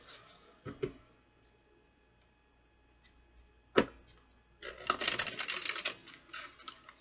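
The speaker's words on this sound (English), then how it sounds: "One more shuffle." Cards are shuffled close by, a few sharp snaps followed by a longer run of quick riffling flutter.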